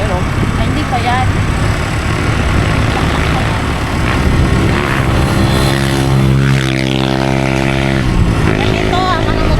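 Motorcycles run along a street, a steady loud engine drone filling the scene with one rising, nearer pass-by in the middle, while a voice talks over the traffic.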